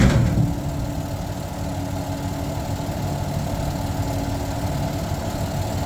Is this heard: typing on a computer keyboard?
no